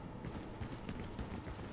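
Footsteps sound outside in the video game Lost Light, a quiet run of soft thudding steps at an even pace, muffled and somewhat distant over a low background rumble.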